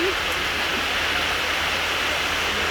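Heavy rain pours steadily with a dense, continuous broadband hiss, loud and unbroken throughout, like a downpour close by.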